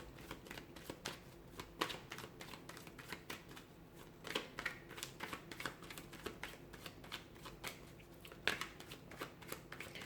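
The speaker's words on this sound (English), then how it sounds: "let's give the cards a shuffle" Playing cards are shuffled repeatedly at close range, quiet riffling bursts and soft slaps in an irregular rhythm with no talking.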